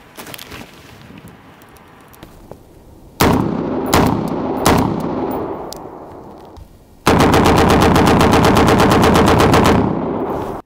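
Short-barrelled FN SCAR rifle with a KNS Precision DiSCARder gas regulator fires a few loud single shots, then a long, steady, fairly slow full-auto burst, close and dominant over a quiet background.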